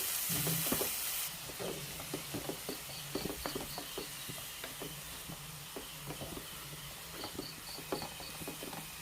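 Tomato and onion sauté in a pan for an egg omelette masala, giving a quiet, steady sizzle with soft irregular pops and crackles close by, after a brief louder burst at the start.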